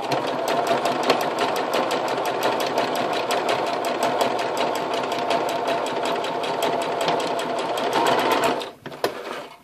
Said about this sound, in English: So I'm going to use the zigzag on my machine. So I'm doing a zigzag.